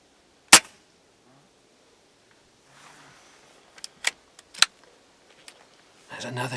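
Sharp snaps of an air rifle firing at crows and doves on a farm, one loud crack followed by several smaller clicks and impacts in quiet open-air surroundings, with faint rustling and a brief burst of noise at the end.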